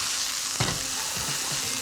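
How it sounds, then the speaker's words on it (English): Thin chicken strips and garlic stir-frying in a hot pan give off a steady bright sizzle, broken by a sharp scrape and clatter of stirring around the middle and softer shuffling knocks afterward. "spread all the chicken, the garlic, up the side of the pan"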